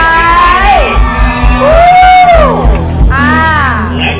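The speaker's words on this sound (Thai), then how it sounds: "กรี๊ดหน่อยกรี๊ดหน่อยเลขท้ายท้าย" A crowd shrieks, whoops and cheers at a prize draw during a party, with high sliding screams rising over a steady, loud background din throughout.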